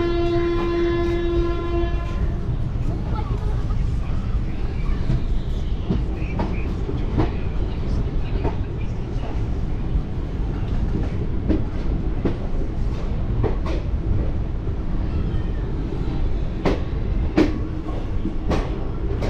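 Howrah–Balurghat Express passenger train rolling on after departing Malda, opening with a loud sustained horn, then a continuous rumble broken by repeated sharp rail-joint clacks at irregular intervals, heard from on board.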